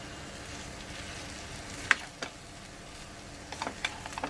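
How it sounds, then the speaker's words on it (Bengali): Rice being stirred and mixed into a hot pan, a soft steady sizzle with a few sharp scraping clicks of the spoon against the pan, close and fairly quiet. "এবার ভাত দিয়ে দিয়েছি এবার এটাকে ভালো করে মিক্স করে নেবো"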